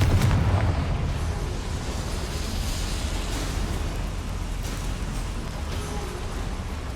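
A Confringo spell explodes in Hogwarts Legacy with a loud boom at the start, trailing into a steady rumbling roar of fire and ambience.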